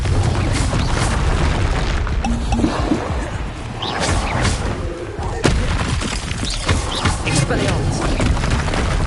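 Booming magical explosions from the Confringo fire spell in the Hogwarts Legacy video game, a dense continuous barrage of blasts and crackling impacts with a sharp burst near the middle, under a shouting voice.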